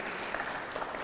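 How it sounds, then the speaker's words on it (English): Conference audience claps after a presentation, a steady dense patter of many hands throughout the short stretch. "Can we give a round of applause for Ingosia?"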